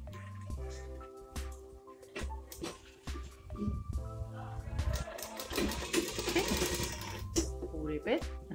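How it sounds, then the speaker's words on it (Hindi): A sewing machine stitching a crop top, running in short bursts and then a longer stretch of fast mechanical whirring and clatter, close, with someone talking over parts of it. "राउंड में ऐसे सिलाई लगा देंगे"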